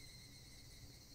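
Cicadas in the video game Higurashi When They Cry, a steady continuous shrill insect drone with a sustained high buzzing tone, unbroken and even in level, with no voices.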